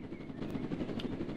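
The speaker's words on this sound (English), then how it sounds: "I'm hijacking one of your helicopters." A helicopter in the Roblox game Jailbreak gives a brief, quiet, close rotor thrum with a low pulsing rhythm.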